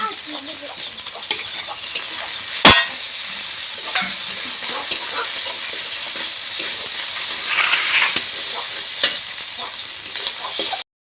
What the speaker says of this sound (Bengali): তারপরে এক এক করে রসুন বাটা আর আদা বাটা দিয়ে দেব।